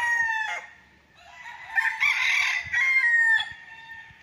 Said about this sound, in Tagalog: ang kulungan din ng mga manok din